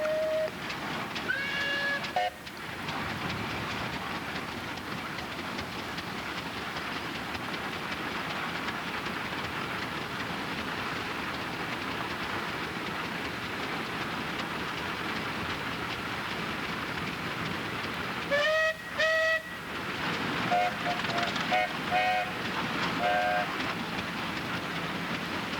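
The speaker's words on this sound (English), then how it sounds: "followed by a Case steam engine rated at 45 horsepower" A 45-horsepower Case steam traction engine rumbles past steadily, with sharp whistle-like squeals near the start and again later, no voices.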